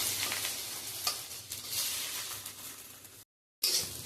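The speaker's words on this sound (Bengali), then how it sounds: "ডিমগুলো একটা করে ভেজে এবার তুলে নেবো।" Eggs frying one at a time in a pan, a steady bright sizzle with occasional spatula scrapes and crackles, cut by a brief silent gap before the frying noise resumes.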